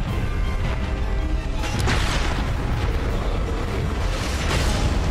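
A boss in Dark Souls Remastered making the ground explode, producing a loud, continuous, booming eruption that fills the whole stretch with rumbling blasts and crashing debris.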